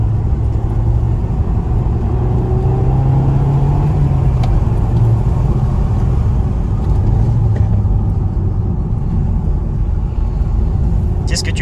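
An Audi TT MK2 2.0 TFSI 200 hp accelerates with a steady low engine rumble and road noise heard from inside the car, continuous throughout, with a faint rising rev note partway through.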